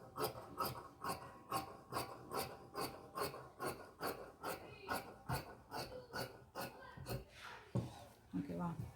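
Scissors cutting through palazzo pant fabric, a steady run of about fifteen close, regular rasping snips that ends in a softer rustle of material.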